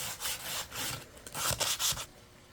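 Sandpaper rubbing on wooden craft frames, a series of close, raspy back-and-forth strokes in short bursts with brief pauses between them.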